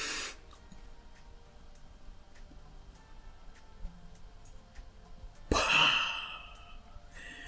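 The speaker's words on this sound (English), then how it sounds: "Inhale and keep the breath in your mouth, but blow it out, but don't let it out." A person doing a breathing exercise, holding the breath and then blowing it out: soft breathy air at the start, a quiet stretch, then a sharp, fairly loud exhaled puff that trails off, with no talking.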